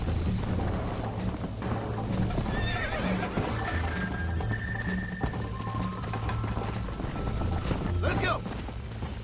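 Horse in the Red Dead Redemption video game neighing and whinnying over steady clip-clop hoofbeats of a gallop, with a rising whinny near the end, all fairly close and continuous.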